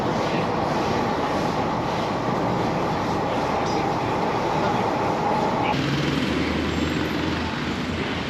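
Continuous rumble and rolling noise of a Delhi metro train in motion, steady and fairly loud throughout, with a shift in tone partway as the ride continues.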